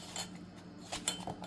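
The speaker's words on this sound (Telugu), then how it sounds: "మళ్ళీ ఒకసారి ఇలా మంచిగా మిక్స్ కొట్టాలన్నమాట" A spoon clinks and scrapes faintly against a bowl while junnu powder mix is stirred, a few light metallic taps and scrapes scattered over a quiet background.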